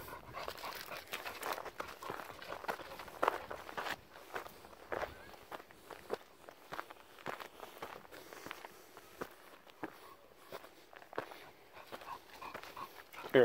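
An Olde English Bulldog moving around off leash outdoors, with soft irregular footsteps and paw patter plus faint panting, fairly quiet and close throughout.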